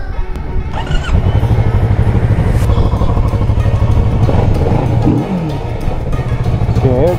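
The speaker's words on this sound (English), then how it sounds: "So here goes the ignition." A 2017 Kawasaki Z650 motorcycle with stock exhaust starts up close by and settles into a loud, throbbing idle with slight revs, while a voice talks over it briefly.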